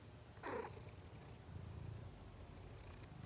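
A cat sitting on a person's lap purrs softly in close, quiet, rhythmic rumbles, breathing in and out in a couple of gentle cycles with a light hiss above.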